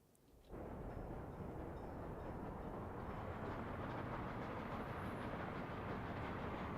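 Trains rumble along their lines in the city-building game Workers and Resources, set in 1930s Soviet times: a dense, continuous rolling roar that starts abruptly and holds steady and fairly loud throughout, with faint clatter under it.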